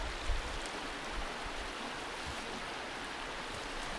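A low-running river in North Carolina's mountains after months without rain, flowing as a soft, even wash of water with no voices, steady and fairly quiet throughout.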